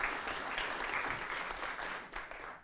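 An audience applauds to welcome a speaker at a geoscience talk, steady close clapping from a crowd that holds for a couple of seconds and then thins out.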